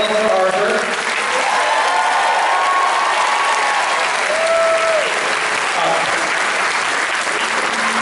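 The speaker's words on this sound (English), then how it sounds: "Big round of applause for Arthur." A convention audience at a Pensacon fan panel gives actor Arthur Darvill loud, sustained applause, dense clapping with whoops and a few voices rising above it.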